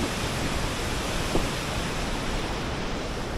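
Mountain stream water rushing along a Himachal trekking route, a dense, steady broadband roar close by with no speech.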